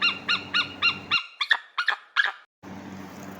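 An eagle call from a children's bird cartoon: four evenly spaced screeching cries, then three sharper, higher calls, clear and close against a faint background hum, with no talking.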